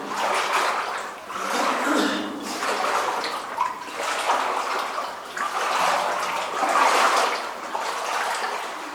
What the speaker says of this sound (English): See, every step we take disturbs the water.